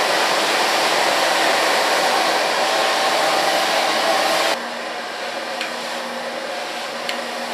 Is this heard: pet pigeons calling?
no